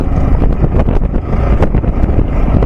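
A Yamaha R15M motorcycle engine running while riding, a loud, steady drone buried in heavy wind rush and road noise throughout.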